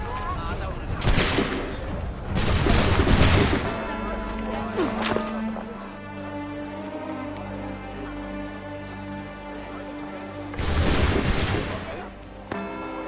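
A musket volley in Assassin's Creed III Remastered cracks out as a dense burst of overlapping shots, followed by scattered reports and a second loud volley near the end. Game music and voices run beneath the gunfire.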